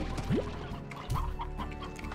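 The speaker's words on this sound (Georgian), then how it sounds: "ბლინ, კიდე ერთი ქათამი მყავს" A chicken in the video game Slime Rancher clucks in a couple of brief, close calls over a low background hum.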